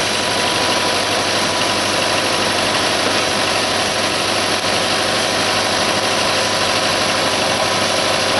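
John Deere tractor engine idling just after a cold start following winter, a loud, constant close-up diesel chug with a steady vibrating drone.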